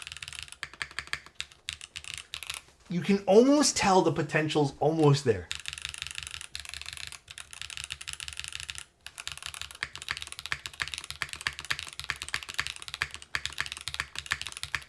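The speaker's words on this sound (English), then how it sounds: "This keyboard sounded good with foam." Typing on a YUNZII AL65 mechanical keyboard with the foam removed, a dense run of close clicky keystrokes throughout, broken briefly by someone speaking over it.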